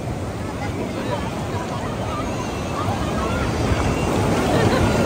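Sea waves break and wash on the shore in a broad, rumbling surge that swells toward the end, mixed with wind buffeting the microphone and a murmur of people nearby.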